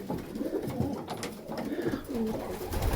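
White homing pigeons in a new loft coo softly in repeated throaty phrases, close by, against a light background rustle.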